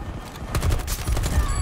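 Fixed turret in Battlefield 2042 firing a rapid, continuous burst of heavy gunfire, loud and close, with battle noise and a voice underneath.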